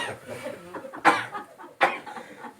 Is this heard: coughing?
yes